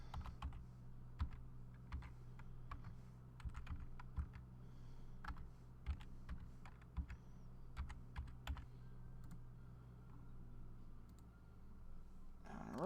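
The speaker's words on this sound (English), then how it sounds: "So let's start the codes typing again." Steady computer keyboard typing, the codes punched in as a run of quick irregular clicks and taps over a low background hum, with no talking.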